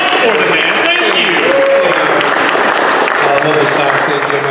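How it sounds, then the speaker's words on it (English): Audience applause for a speaker at a talk, dense sustained clapping heard loud and close with a murmur of voices mixed in. "Love the claps"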